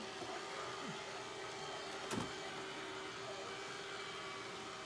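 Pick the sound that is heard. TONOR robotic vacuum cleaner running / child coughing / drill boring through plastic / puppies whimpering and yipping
TONOR robotic vacuum cleaner running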